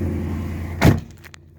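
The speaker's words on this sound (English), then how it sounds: "shut this door quick." A Ram 1500 pickup truck door slams shut with one sharp, close thud over the steady hum of the running engine, followed by a few light clicks.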